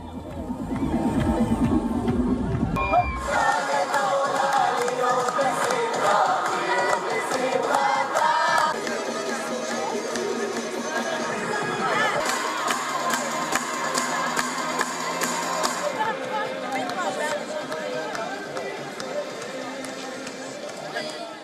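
Outdoor crowd in Israel waving flags and cheering as a convoy carrying released hostages passes, a dense, sustained roar of many voices with shouts throughout, fairly near and loud.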